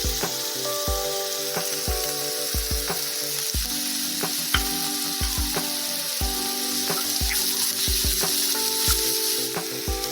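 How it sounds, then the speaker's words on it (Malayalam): Beans, carrot, celery and leeks sauté with salt in a pan. A steady, close hiss of frying runs throughout, with repeated rhythmic scraping and stirring strokes. "അങ്ങനെ ഈ വെജിറ്റബിൾ നന്നായി സോട്ടായി."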